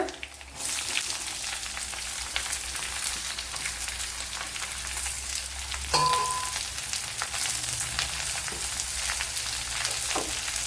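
Two medium chopped onions go into a hot pan and fry with a steady close sizzle, a brief clatter near the middle as they are stirred, continuing without talk.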